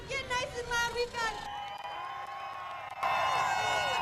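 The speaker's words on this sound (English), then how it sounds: "Let's give these guys a big round of applause." Crowd cheering and whooping at an ATV race podium, the roar swelling louder near the end, with a voice speaking over the start.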